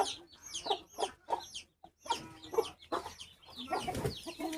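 Guinea fowl and their chicks cluck and chirp close by in short, uneven bursts, with sharp high peeps over lower clucks.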